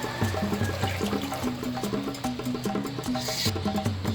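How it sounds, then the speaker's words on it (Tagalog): Water is poured into a cooking pot of linarang and shrimp, a close gurgling, trickling pour over a steady music bed, with no talking. "Tsahan na ninyong tubig, no?"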